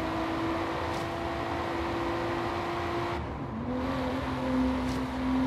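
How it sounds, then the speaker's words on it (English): A GT-R race car engine in a video game holds a steady drone at one pitch, drops briefly after a gear shift, then climbs again at a higher note; loud and continuous, no voices. "Man, this car just sounds super nice."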